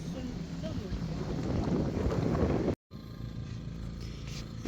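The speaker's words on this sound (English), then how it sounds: "Wind came on quick though, didn't it?" Wind blows around a sailboat out on the water, a steady rushing roar buffeting the microphone, broken by a brief dropout before the gusty noise resumes.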